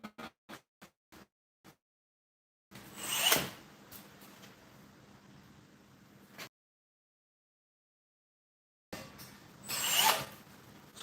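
A drill bores into box section iron, running in two bursts of steady whirring with a sharp rise at the start of each, separated by a silence, after a few light ticks at the beginning.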